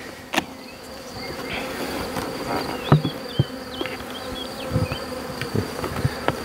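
A newly settled honeybee swarm buzzes steadily at the hive, with a dense insect drone throughout and individual bees passing close by with louder buzzing bursts.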